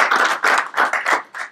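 Brief rhythmic clapping of a few hands at an exhibition event about the Biafran genocide, sounding as sharp, close claps in quick bursts.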